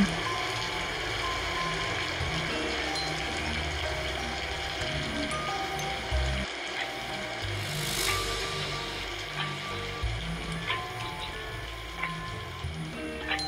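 A shower turned up to full blast pours hot water in a steady, rushing hiss, with faint scattered clicks and low rumbles underneath, continuous throughout.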